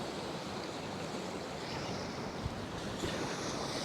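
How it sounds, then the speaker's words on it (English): Churning floodwater waves in flooded Oklahoma surge in a continuous rushing roar, mixed with wind buffeting the microphone, with a couple of brief splashes standing out near the end. "Those angry waves."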